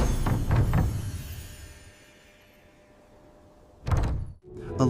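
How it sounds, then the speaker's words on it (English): A few taps on a giant castle door in a fairy-tale bedtime story, heard as a short burst of knocks near the start, then quiet, and another pair of knock-like hits near the end. "A little noise came from the giant castle door."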